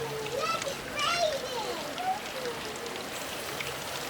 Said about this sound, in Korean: 인공비를 지붕 위로 떨어뜨리고 있다.